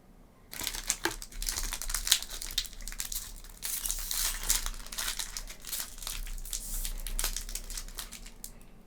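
A foil Pokémon booster pack from the Obsidian Flames set crinkles and tears as it is opened, with close, steady crackling and rustling throughout.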